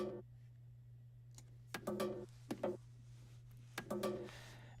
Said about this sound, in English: we took the original percussion